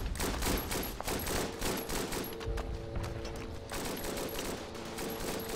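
Gunfire in the First World War shooter Verdun: dense volleys of rifle and machine-gun shots crack in rapid, overlapping bursts, loud and near, with distant shots behind and no talking.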